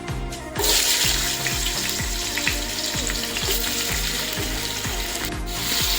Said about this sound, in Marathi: तेल गरम झालंय, आपण कांदा टाकूया।